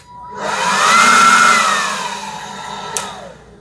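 A two-speed cordless battery leaf blower whirs up, holds a steady high-pitched roar for a couple of seconds, then winds down, with a brief click near the end.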